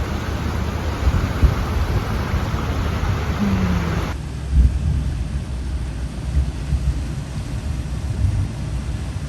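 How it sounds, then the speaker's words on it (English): Thunder rumbling during a rainstorm, heard from a boat cruising on the Black Warrior River, low rolling booms under a steady wash of rain and engine noise, with no talking. "You can hear the thunder."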